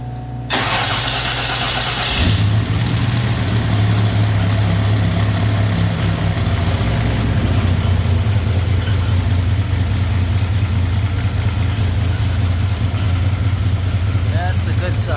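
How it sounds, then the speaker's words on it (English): A race car fitted with a freshly changed TH400 transmission cranks briefly, fires up with a loud catch, then settles into a steady rumbling idle up close, while people talk nearby. "Let me get this old man to come out here and fire this car up."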